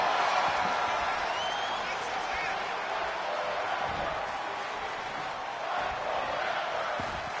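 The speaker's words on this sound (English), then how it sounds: "this capacity crowd on their feet, showing some love, making some noise" A capacity crowd at a pro wrestling event on a European tour cheers and makes noise in a steady, loud roar that fills the arena without pause.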